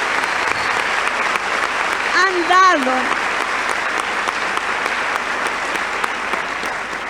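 Sustained, dense applause from the audience at an Argentine national social work congress. It runs steadily throughout, and a speaker's voice rises briefly over it partway through.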